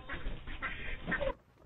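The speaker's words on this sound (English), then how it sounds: "Heh, ducks." Ducks quacking close by in a brief burst of several nasal calls over about a second and a half, fairly quiet, then falling silent.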